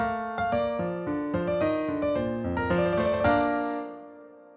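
A consonant musical passage of pleasing harmony, a series of clear pitched notes and chords played in steady succession, close and alone, ringing out and decaying at the end.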